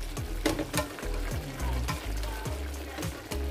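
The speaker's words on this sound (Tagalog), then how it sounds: "Ayan, maluluto na. Tinakpan ko kanina. So, ayan, maluluto na, guys, ang aking ginisang patula." Sautéed sponge gourd (patola) seasoned with fish sauce cooks in a pan, giving a steady low sizzle and bubbling with occasional stirring clinks and scrapes, close and moderately loud, with no talking.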